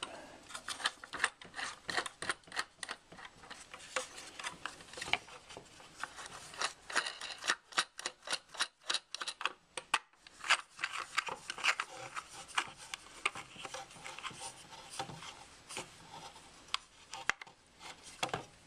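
A nut is screwed down onto a threaded rod on a homemade camera car mount, producing rapid close metallic ratcheting clicks and scrapes in bursts, nearly continuous with brief pauses.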